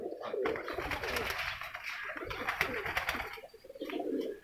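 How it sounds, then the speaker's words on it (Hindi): Racing pigeons in a loft, several birds giving soft, repeated throaty coos that overlap continuously at close range, with no talk. "बाकी ये परवाज़ी कबूतर"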